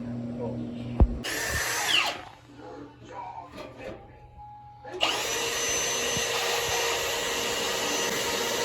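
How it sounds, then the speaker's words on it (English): Power drill boring through the metal trunk pan of a 1969 Buick Skylark GS, whirring in two runs, a short burst then a long steady whine, loud and close, with clanks and talk in the shop between them. "So he's drilling the pan out."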